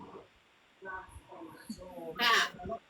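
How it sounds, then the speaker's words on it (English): Pet parrot squawking loudly in a harsh, crow-like burst near the end, after some chattering vocal sounds, heard indoors at close range. "You heard my other parrot. He's starting to get a little rambunctious and talking."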